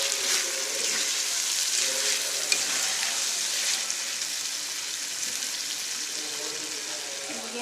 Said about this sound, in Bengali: এর মধ্যে দিয়ে দিচ্ছি পেঁয়াজের যে কলিগুলো কুচি করা ছিল সেই পেঁয়াজের কলিগুলো এবার আরও একটু সময় রান্না করবো